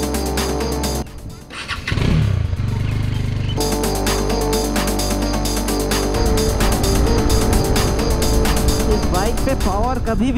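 Bajaj Dominar 400cc motorcycle engine running loud and close while riding, a steady throbbing drone with a brief dip early on before the engine note holds strong and even.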